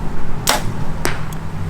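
An arrow released from a PSE Evolve 33DS compound bow at an outdoor range gives a sharp, loud snap, then a second crack and a faint tick about a second later, over steady wind noise.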